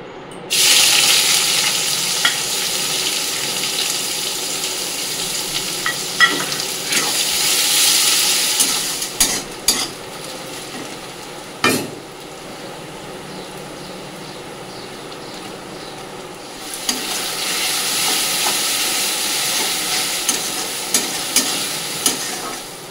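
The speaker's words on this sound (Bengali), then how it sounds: "কড়াইতে তেল দিয়ে দিয়েছি, কড়াইয়ের মধ্যে দিয়ে দেবো কিন্তু দুটো তেজপাতা" Bay leaves frying in hot oil in a wok, a steady hiss of sizzling with occasional clatters and knocks from utensils, fairly close and continuous, no talk.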